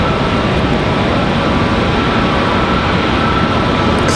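Airliners pushing back at Charlotte Douglas airport, a loud, steady roar of jet engines and ground equipment filling the air without a break, no voices.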